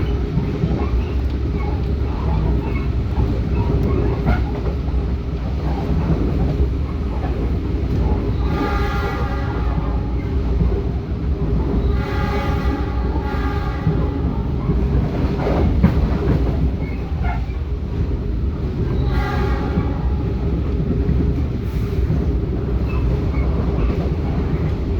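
A SuPas commuter train rolls past near Gedangan station with a continuous low rumble, sounding its horn in several repeated blasts mid-passage.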